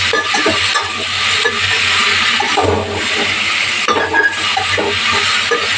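Sorakaya (bottle gourd) fry curry being stirred in a pan, a steady close scraping and sizzling of frying pieces that runs continuously without pause.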